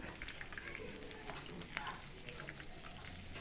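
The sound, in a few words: fish frying in coconut oil on curry leaf stems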